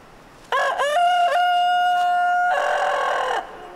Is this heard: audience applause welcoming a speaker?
no